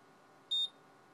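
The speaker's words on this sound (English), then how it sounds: "I turned on the beeping noise" One short, high electronic beep from a digital storage oscilloscope sounds over a faint steady hum.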